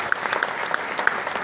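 Audience applause at a stage talk event, a steady wash of clapping with a few sharper claps standing out, moderately loud and continuous without speech.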